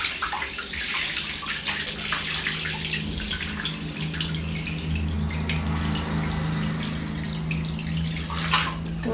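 Finger millet grain rubbed and washed by hand in water, a steady close sloshing and trickling with small splashes running continuously, over a low constant hum.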